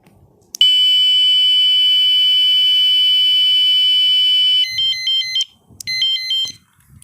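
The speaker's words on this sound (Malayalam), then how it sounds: "ഇങ്ങനെ ഹോൺ വരും." An electronic bicycle horn built into a cycle headlight blares a loud, steady high-pitched tone for about four seconds, then switches to a rapid warbling pattern that stops briefly and resumes, heard close with no talking.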